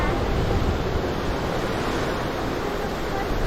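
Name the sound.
Nile river water rushing over the top of Murchison Falls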